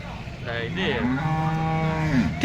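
A Murrah buffalo moos long and loud close by at a Tamil Nadu cattle market near Bengaluru, one drawn-out low call with a rising, wavering tone over faint market background noise.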